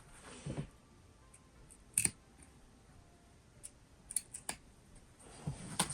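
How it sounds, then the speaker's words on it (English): Scissors snip through fabric for a phone pouch, a few short, quiet crisp cuts spaced irregularly and heard close up against near silence. "cut just a little bit like that"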